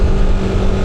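A Yamaha NMAX Tech Max scooter engine-brakes downhill, giving a brief, close, steady motor drone with a firm low hum.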